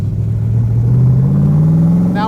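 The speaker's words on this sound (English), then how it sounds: "I am just barely touching the accelerator, and this thing is like a freaking rocket ship" A 1965 Shelby Cobra Factory Five replica pulls hard on light throttle, its engine note climbing steadily in a loud, continuous roar heard from inside the car, with a brief higher whine near the end.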